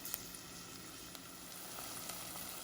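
Chopped onions sweat in a pan for butter chicken, giving a steady, soft, continuous sizzle with faint crackles and no talking.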